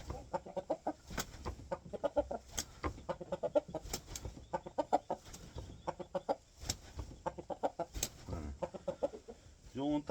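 Rooster being trained for cockfighting clucks repeatedly in short, rhythmic bursts, close and fairly loud, with scattered brief sharper calls throughout.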